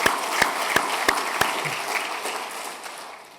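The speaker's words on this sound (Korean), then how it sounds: "큰 소리로, 큰 박수로 우리 환영하겠습니다." A church congregation claps loudly in a dense burst, with a few sharp individual claps standing out, then the applause gradually thins and fades away.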